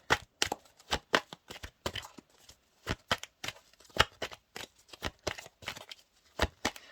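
Tarot cards are shuffled by hand in a steady run of crisp riffling bursts, close and fairly quiet, with no talking.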